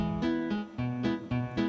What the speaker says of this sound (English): It's actually a rumba beat.